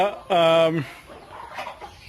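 A loud, drawn-out hen call rises over a farmyard at evening feeding time among egg-laying Gramasree and native chickens, followed by softer, scattered clucks and low background murmur.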